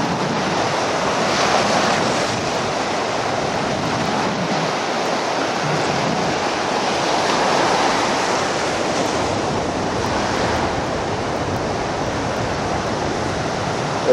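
Ocean waves rolling onto a beach in cool, windy summer weather, a continuous loud surf roar with swelling surges and heavy wind buffeting the microphone, no voices heard.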